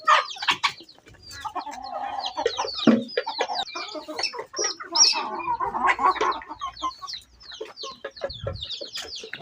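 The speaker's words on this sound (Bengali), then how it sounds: "চীনা হাঁস মুরগি সবগুলো খাবার খাইতেছে।" Chickens and Muscovy ducks feeding together in a backyard poultry yard, with close, busy clucking and short squawks overlapping in an irregular stream, plus occasional louder calls and no talking.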